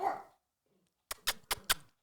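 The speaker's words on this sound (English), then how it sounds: "She's staring at the wall, barking." A pug barks four times in a quick sharp series, close and fairly loud, after a brief faint murmur and a short silence.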